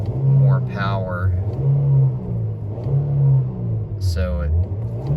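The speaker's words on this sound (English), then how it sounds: "I have the AC on to basically require the engine to make a little more power" A 2025 Nissan Versa S with a manual gearbox idles with its AC compressor on, giving a low, steady engine hum and rumble close by under a man's continuous speech.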